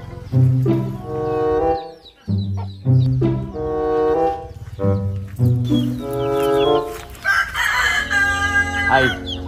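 Chickens in a coop with a rooster crowing repeatedly and loudly up close, long harmonic calls recurring every couple of seconds over steady clucking.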